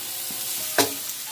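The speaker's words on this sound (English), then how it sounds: "I like them singing to me with that sizzle." Potatoes and onions sizzling in a frying pan, a steady crackling hiss with a brief louder scrape of stirring near the middle.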